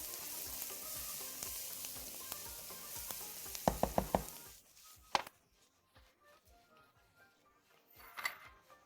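Spices, raisins, onions and carrots being stirred in a frying pan for Bukhari rice, a steady sizzle with a few sharp utensil clacks, then the frying quiets to faint crackles and a final scrape.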